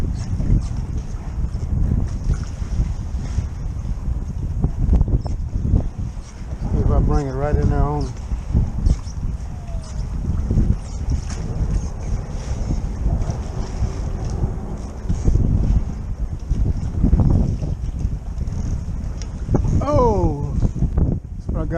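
Strong wind buffets the microphone on open water during kayak fishing in cold, rough conditions, a steady roaring gust noise throughout while someone talks intermittently over it.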